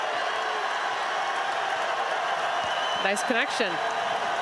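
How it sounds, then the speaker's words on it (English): Crowd noise swells in an arena during an Iowa vs NC State women's basketball game, a steady broad roar throughout with a commentator talking over it. "And the crowd comes alive."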